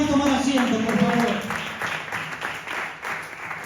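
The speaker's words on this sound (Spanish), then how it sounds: "Podemos darle un fuerte aplauso a la palabra y tomar asiento, por favor." A church congregation applauds, the clapping a steady, dense wash that begins under a voice and carries on alone, gradually thinning toward the end.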